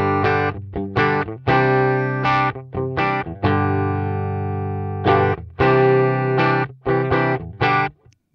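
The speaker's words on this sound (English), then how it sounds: "a clean sound, and then you add the delay" An electric guitar played through a Tech 21 Fly Rig 5 v2 with delay added, picking a series of clean, sustained notes and chords whose tails ring and repeat between strikes, alone and up close.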